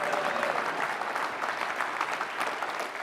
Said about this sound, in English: that's where you clap again.